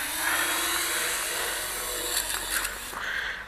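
JJRC H37 Elfie folding selfie quadcopter drone descending to land outdoors, its small propellers giving a continuous high, whiny buzz that wavers in pitch as the throttle drops, close and steady with no talk.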